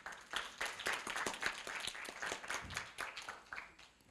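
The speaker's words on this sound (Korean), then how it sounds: "모션 앤 포스처의 김윤진 이사를 뜨거운 박수로 맞이해 주시기 바랍니다" Audience members at a university event clap to welcome a speaker, a moderate, fairly quiet round of applause with individual claps audible, sustained evenly for the whole few seconds.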